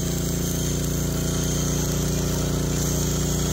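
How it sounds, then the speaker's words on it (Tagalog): Steady, continuous hum of a generator driving a welder at a high ampere setting, a dense, unbroken drone with a faint regular throb, close and loud throughout with no talking. "Pansinin nyo at napaka-steady talaga ng supply ng pag-welding ng generator na ito"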